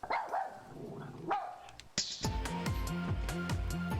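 Cartoonish dog barks ring out in the Barbie Groom and Glam Pups Wii game: a couple of scattered yaps, then a steady rhythmic run of barks over bright game music.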